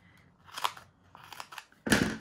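Scissors cutting paper for a card project, three crisp close snips with quiet gaps between, the last one loudest, with no talking.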